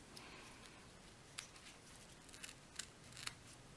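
A few quiet snips of scissors trimming paper while assembling a stamped greeting card, soft and close, with faint handling rustle and no speech.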